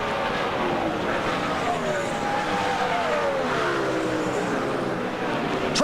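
NASCAR stock cars racing at the 2005 UAW-GM Quality 500, a dense roar of engines with rising and falling pitch as cars sweep past, loud and continuous, with a commentator talking over it.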